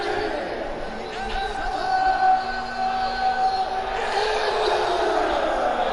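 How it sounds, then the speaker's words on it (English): A UFC 2 video game arena crowd at a Fight Night event in Montreal, Quebec, cheers and yells as a steady, lively roar through the whole stretch, with someone talking over it. "Crowd here is so alive."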